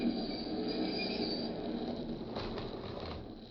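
Train wheels squealing as a sound effect in a 1945 radio drama, a sustained metallic screech with rumbling rail noise underneath, steady and fairly loud across the whole moment, with no voices.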